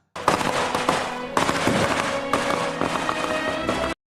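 Firecrackers going off in rapid crackling bursts, dense and loud, with three clusters of sharp pops running through about four seconds and no voices.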